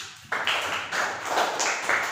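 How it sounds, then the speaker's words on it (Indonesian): Clapping in a classroom micro-teaching lesson, a short burst of hands starting abruptly and continuing in uneven rhythmic pulses from a small group, fairly close, with no talk over it. "Tepuk tangan untuk Mbak Siska."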